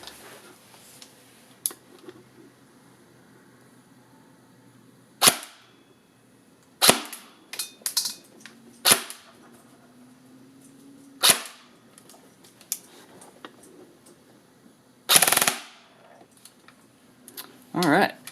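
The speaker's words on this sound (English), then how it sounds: "And I'm shooting like through a cardboard box" A VFC M4A1 RIS II airsoft rifle fires BBs into a cardboard box inside a tactical bag, giving sharp isolated cracks spaced several seconds apart with quieter clicks between them.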